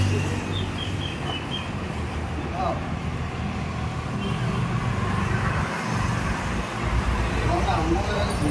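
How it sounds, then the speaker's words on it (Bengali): Motorbikes and other traffic rush along a busy road between Muchipara and Durgapur Station, a continuous loud roar of passing engines with one deeper vehicle sweeping by midway. "দেখছেন কীভাবে জোরে, কত জোরে বাইক উড়ে যাচ্ছে।"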